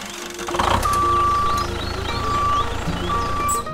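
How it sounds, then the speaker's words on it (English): A crane truck works nearby with a steady engine rumble, and a high reversing beep repeats in long, evenly spaced tones over it. "The crane truck operates, lifting the big rock out of the tank."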